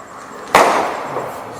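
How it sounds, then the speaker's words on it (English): A single firecracker goes off with a sharp, loud crack that dies away into a rough, fading rumble, with no voices. "Like that firecracker."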